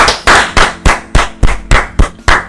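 A handful of people clapping at a talk-show style discussion, about nine sharp, evenly spaced claps, close and loud, with no talk over them.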